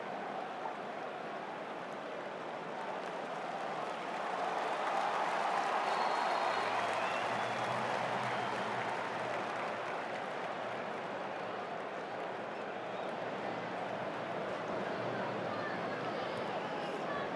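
A football stadium crowd during an England versus Albania World Cup qualifier just after England's goal, a steady broad roar of applause and chatter from the stands that holds for the whole stretch.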